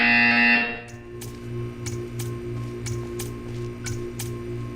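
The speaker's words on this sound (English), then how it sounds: "When you hear the buzzer, stare at the art." Buzzer in the Portal 2 video game sounding in a series of short, evenly spaced pulses over a steady low hum, following a brief loud tone at the start.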